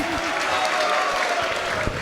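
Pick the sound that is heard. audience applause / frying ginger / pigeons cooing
audience applause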